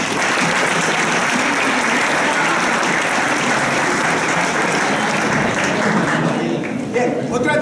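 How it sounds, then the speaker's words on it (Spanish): Loud, sustained audience applause fills a hall during a historical fencing exhibition, steady dense clapping throughout with a slight rise near the end. "así que por favor un aplauso"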